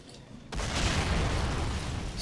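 Heavy booming cannon fire from a Matilda tank pounding an infantry squad in a Valkyrie mod strategy game match, a loud sustained rumbling burst that erupts suddenly after a quiet lead-in and rolls on without letup.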